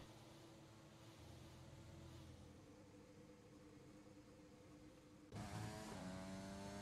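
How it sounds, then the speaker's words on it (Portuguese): An F1 race car engine from the on-board view in a video game drones steadily and faintly, then jumps louder with a rising rev near the end. "Ver como é que tá o som do carro aqui."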